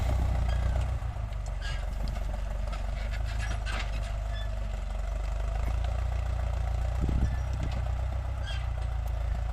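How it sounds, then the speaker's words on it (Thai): A Ford 6640 tractor's four-cylinder, non-turbo 90-horsepower diesel running steadily at a constant engine speed, a loud, deep, continuous drone close by. "เป็นเครื่องสี่สูบนะพี่น้อง สี่สูบไม่มีเทอร์โบนะครับรุ่นนี้ครับ ก็รอบเครื่องก็ ใช้ได้ครับ"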